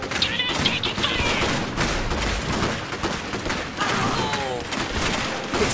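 Continuous battle gunfire in Iron Harvest, dense overlapping bursts and shots with occasional distant booms filling the whole stretch, while voices shout over the din.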